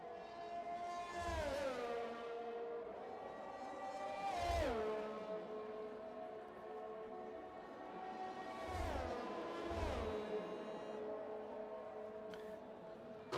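F1 race car engine from the F1 2021 game on a lap approaching the final section, a steady high-pitched whine rising and dropping with gear shifts and braking, fairly faint and continuous.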